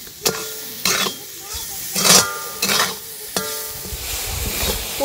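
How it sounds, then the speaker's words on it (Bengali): Grated coconut and sugar are stirred in a kadai for a pitha filling, giving soft sizzling under repeated scraping strokes of a spoon against the pan, about six distinct scrapes at irregular intervals. "এবার দিয়ে দিচ্ছি কড়াইতে নারকেল, দিয়ে দিচ্ছি চিনি"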